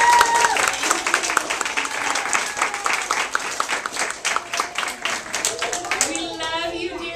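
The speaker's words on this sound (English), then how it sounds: "we want to give a huge round of applause to Miss Carly" A summer camp crowd of children and adults claps for their music and golf teacher, with brisk, sustained applause that fades out at the end as voices come in.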